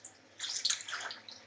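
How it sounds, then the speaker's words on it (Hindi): Water poured into a pot of potatoes while cooking aloo bhaji, a short splashing pour lasting about a second, moderately close. "और अब इसमें मैंने पानी शामिल करना है।"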